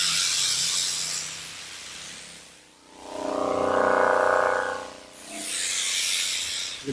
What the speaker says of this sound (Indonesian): Lebih kencang ini suara airnya.